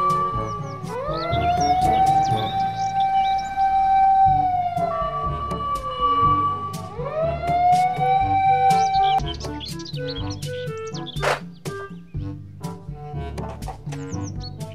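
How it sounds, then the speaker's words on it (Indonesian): A loud, wailing fire engine siren, from a toy vehicle, rises and falls in long sweeps, with chirpy electronic tones and busy clatter around it. "Pemadam kebakaran."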